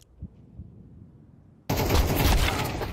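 Loud sustained automatic gunfire erupts abruptly in a shooter video game, following a few quiet thuds and low background sounds, then rattling continuously to the end.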